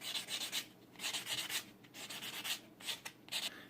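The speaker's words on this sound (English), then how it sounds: "we'll go ahead and finish this thing up with a nail file sanding block" Rhythmic back-and-forth strokes of a nail-file sanding block on a ring made from a coin, a soft raspy rubbing repeated in quick bursts, close and fairly quiet.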